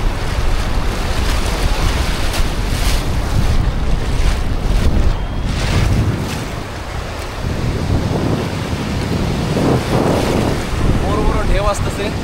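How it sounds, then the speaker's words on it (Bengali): Big sea waves roll in at Guliyakhali beach near Chattogram, a continuous loud wash of surf with heavy wind buffeting the microphone and a voice faintly heard at moments. "বড় বড় ঢেউ আসতেছে, অনেক ভালো লাগতেছে।"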